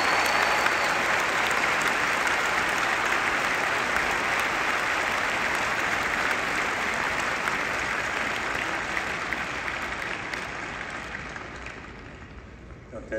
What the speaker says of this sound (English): Give them an enormous applause.